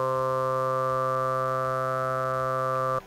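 A sustained synth lead from Ableton Drift holds a steady, bright harmonic tone with subtle band-pass filter modulation, playing alone for about three seconds before cutting off abruptly.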